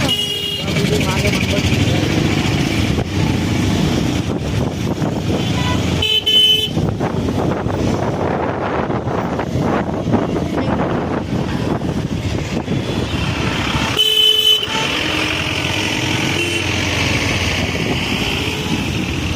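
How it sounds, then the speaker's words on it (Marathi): A traffic jam on the Sillod–Jalgaon road near Sambhajinagar: loud, continuous engine and road rumble from nearby cars, with a couple of short horn honks cutting through and voices in the background. "ट्रॅफिक लागलेलं आहे गाईज."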